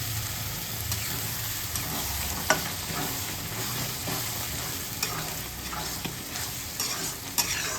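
Kabuli chickpeas being stir-fried in oil in a pan, with a steady close sizzle and scraping stirring strokes throughout, plus a few sharper clinks of the utensil against the pan.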